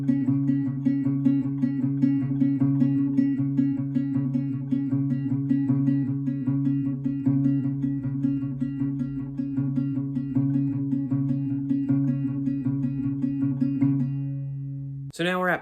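Acoustic guitar picks a steady, repeating pattern from the opening of a song verse, close and even for about fourteen seconds before a brief strum or slide ends it.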